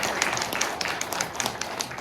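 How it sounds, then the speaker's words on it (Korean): A church congregation claps for their pastor and his wife at a Wednesday evening evangelism service, producing a lively, moderate patter of hand claps with distinct sharp individual slaps standing out over the crowd. "지금까지 수고하신 이원도 목사님하고 이봉점 사모님하고 두 분께 박수를 한번 드립니다"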